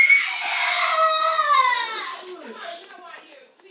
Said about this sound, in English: my brother just won't stop crying